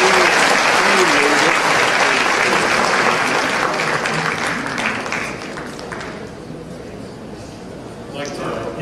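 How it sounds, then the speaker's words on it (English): Dense, loud audience applause for a panel at a financial inclusion conference, filling the room and then thinning out gradually over about nine seconds. "I'll ask all of you to give them a round of applause"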